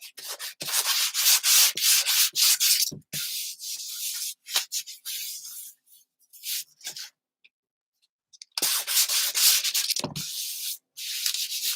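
Hand sanding of a typewriter cover, a close, steady scratchy rubbing in long back-and-forth bursts with a quiet pause in the middle before the strokes resume.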